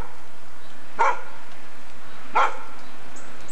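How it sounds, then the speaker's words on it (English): A dog barks twice, about a second and a half apart and fairly close, beside an old house on a Texas history tour, with quiet between the barks. "Please excuse the dog."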